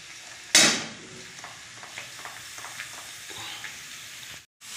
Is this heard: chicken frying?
yes